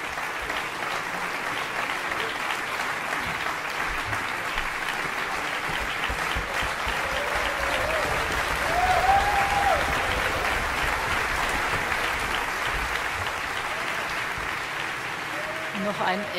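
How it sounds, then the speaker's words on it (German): An orchestral concert audience applauds the composer at a new-music festival, a sustained, even roar of many hands filling the hall throughout, briefly swelling midway, with a faint voice rising above it. "der Applaus gilt hier der Komponistin"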